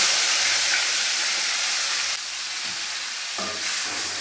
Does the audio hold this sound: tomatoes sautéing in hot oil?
yes